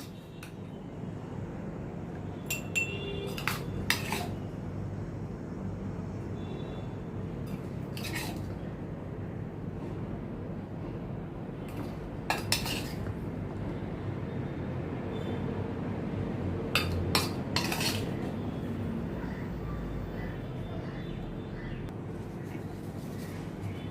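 Green chilli pickle is spooned into a jar: a few scattered, sharp clinks of a spoon against glass, spaced seconds apart over a quiet, low background hum.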